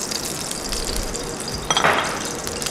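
Oil sizzles in a hot frying pan with a constant close hiss, swelling briefly louder near the end as something shifts in the pan.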